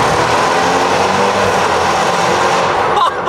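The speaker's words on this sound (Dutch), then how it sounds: "Dat geluid in zo'n tunnel van deze uitlaat is niet normaal vet." Car exhaust roaring loudly and continuously inside a tunnel, a dense close-up drone that drops away abruptly near the end.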